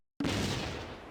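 A single heavy gun report from a 6-pounder anti-tank gun in the Close Combat war game, an abrupt loud boom with a rumbling decay that fades over about a second.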